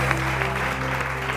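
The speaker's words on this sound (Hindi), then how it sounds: "बहुत सारी तालियां" A studio audience on a morning television show claps, giving a steady wash of applause that holds evenly over a low, constant background hum.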